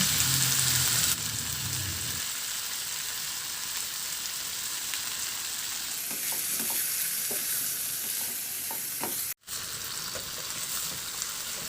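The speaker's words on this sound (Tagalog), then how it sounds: "At ihalo lang hanggang sa mag-iba na ang kulay." Pork ribs sear in a pan with a constant loud sizzle, broken by scraping stirs and small clicks, close and alone without talk.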